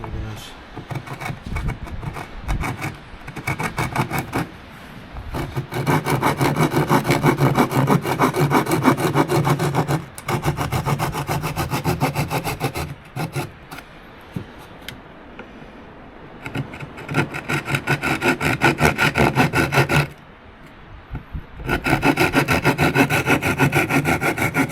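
A wooden drill is spun by hand to burn a notch into wood, giving repeated rasping, grinding strokes in bursts with short pauses between them.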